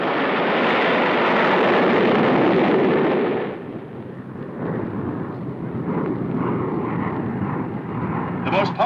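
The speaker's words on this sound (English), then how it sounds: "Britain, birthplace of jet propulsion, won the race to build the first jet-powered passenger liner." The Comet, an early jet-powered passenger liner, roars loudly for a few seconds before the noise drops away, leaving a fainter rumble under a spoken voice.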